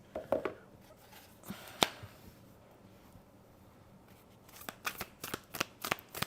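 A deck of Starchild Tarot cards riffles and shuffles in two bursts of quick papery flicks, a short pause in the middle, close and fairly soft with no voices.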